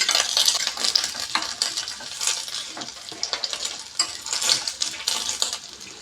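Cashew pieces sizzle and fry in hot fat in a pan while making kheer for a Navaratri offering, a steady close crackle with occasional stirring scrapes and no talk.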